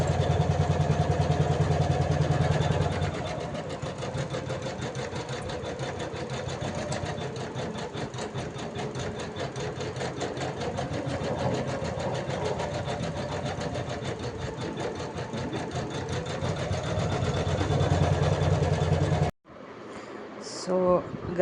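Sewing machine stitching the front panel of a boat-neck blouse, running steadily and close for most of the time before stopping abruptly near the end, with a few faint handling sounds after.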